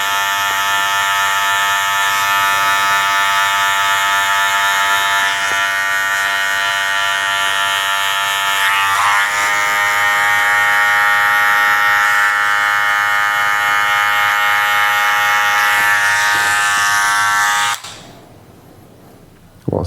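An electric hair clipper fitted with a guard comb hums steadily and loudly while cutting hair, a constant buzzing drone for about eighteen seconds before it is switched off and stops abruptly.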